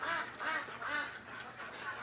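Ducks quack in a pen on a rainy day, a steady run of repeated nasal calls close by with no voices over them.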